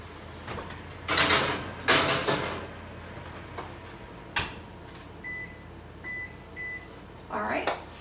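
Peach crumb bars go into a home oven: a couple of loud door and rack clunks, a metallic clatter, then three short electronic beeps as the oven is set, ending with another door thud.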